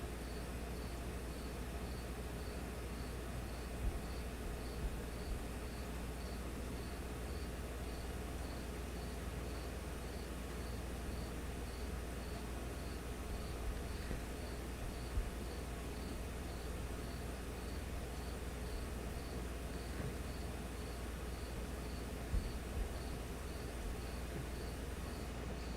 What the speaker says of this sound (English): If you guys can hear that cricket that was just chirping, sorry about that.